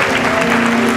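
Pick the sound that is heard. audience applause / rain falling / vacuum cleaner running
audience applause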